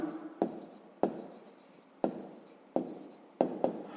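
A written answer to a fifth-grade maths exercise, done by hand on paper, heard as sharp pen taps and scratchy strokes in short bursts, close and clear, with no voices.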